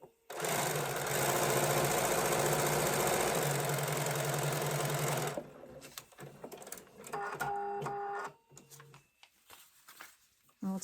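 A sewing machine stitches fabric for a paper-pieced quilt block, running in a loud, steady mechanical whir for about five seconds, then stopping, followed by quieter handling clatter and brief talk.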